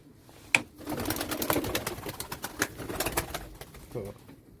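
Arab pigeons nearby, with a sudden burst of flapping wings as birds take off, then a fluttering, rustling stretch of wingbeats mixed with low coos.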